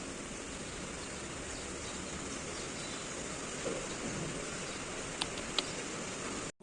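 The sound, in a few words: heavy rain falling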